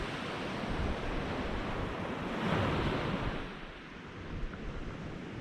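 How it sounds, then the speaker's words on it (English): Sea waves break steadily on the Holderness coast at night, a broad continuous wash of surf with a gentle swell near the middle, carried under light wind noise, no voices. "On nights like tonight, I mean, you can hear that water"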